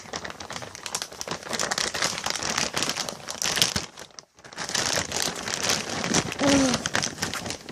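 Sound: tearing something apart by hand

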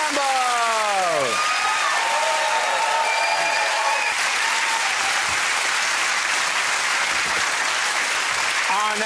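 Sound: studio audience round of applause

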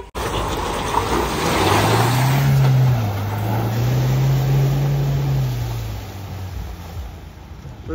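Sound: off-road car driving through small water crossing

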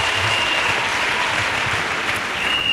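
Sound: audience applauding for Jesus Christ

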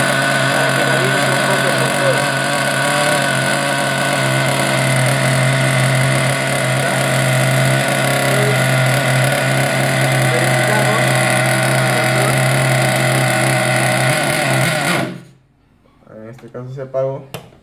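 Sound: JQ Products nitro RC buggy engine idling while warming up

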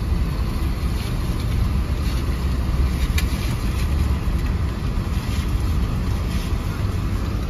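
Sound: wind blowing on a beach

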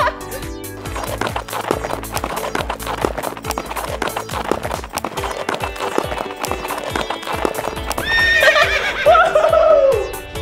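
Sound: horse neighing and galloping sound effect

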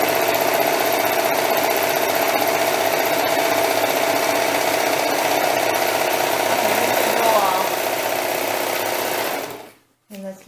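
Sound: sewing machine sewing a strip of chiffon

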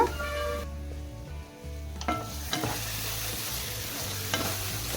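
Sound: frying on low flame in oil

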